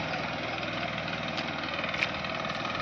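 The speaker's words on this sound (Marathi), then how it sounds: "इकडे ट्रॅक्टरचा आवाज येतो" A tractor engine runs in a Konkan rice paddy during transplanting, giving a steady, unbroken droning rumble at moderate distance, with no pause for its whole length.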